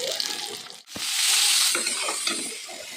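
Fish fries in a pan with a bright, steady sizzle, broken by a brief scrape or stir, then the sizzling swells again close by.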